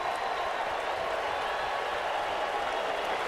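A baseball stadium crowd of just under 15,000 roars and applauds after a fielder's catch, a dense, steady wash of cheering and clapping that fills the whole stretch without letup.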